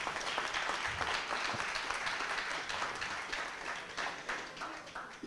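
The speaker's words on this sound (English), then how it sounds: "You deserve a round of applause for what you've had to go through in the last 24 hours." Audience at a Toronto mayoral debate in Jane-Finch applauding, a full dense wash of clapping from a sizable crowd that stays strong for several seconds before easing slightly.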